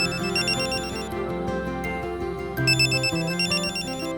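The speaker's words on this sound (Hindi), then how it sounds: "सिद्धार्थ का फोन है।" A telephone rings with an incoming call, a bright repeating electronic ringtone melody playing steadily and loudly throughout, with no voices over it.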